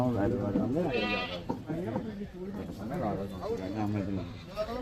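Goats bleat in wavering cries amid a busy crowd of talking voices at a goat market, the animal calls mixing with chatter throughout.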